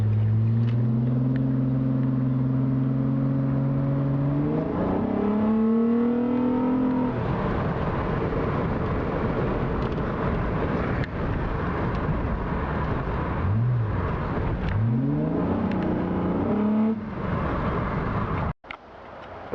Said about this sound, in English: That's how I warm up the car.